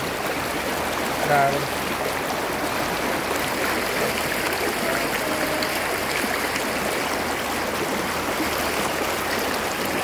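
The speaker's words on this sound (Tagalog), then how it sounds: "Maganda yung naagos sa tubig dito" Steady rushing of flowing river water in Laur, Nueva Ecija, a broad constant wash of sound with no pauses, close and fairly loud throughout.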